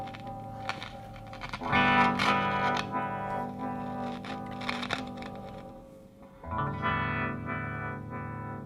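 Guitar played through a repaired Effectrode Tube-Vibe tube effects pedal, its output crackly and distorted with a swirling modulation, sustained chords with a loud surge partway through and a brief drop before resuming.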